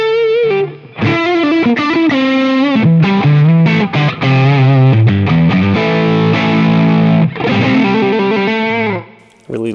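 Electric guitar on the neck pickup driven through a low-gain Xotic overdrive pedal, playing a continuous, loud melodic phrase with sustained, mildly distorted notes and a brief pause near the start and end.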